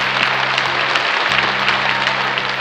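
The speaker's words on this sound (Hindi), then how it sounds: "एक बार जोरदार ताली हो जाए आयुषी के लिए" A large audience at a Bhojpuri cinema awards show claps loudly and steadily, dense applause filling the hall without a break.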